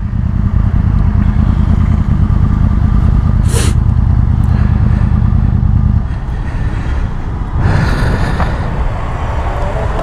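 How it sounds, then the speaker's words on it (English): A Yamaha R1 sportbike cruising along a road, its engine giving a steady, loud drone that shifts to a rougher, lower rumble partway through, with a brief higher whine as the rider changes pace. "his bike is, I feel, the most smoothest R1 I've ridden till now"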